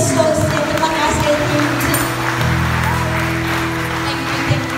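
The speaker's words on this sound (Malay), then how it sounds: "Tepuk tangan kepada Tuhan Yesus." A congregation applauds during a church sermon, a steady spread of clapping held under a low sustained musical tone from keyboard or organ, with no speech over it.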